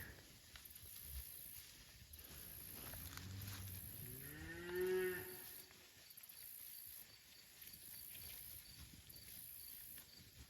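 A cow moos once, a long rising-falling low call, moderately distant in a lush silvopasture on a hot day, with steady insect buzz and light ambient noise around it.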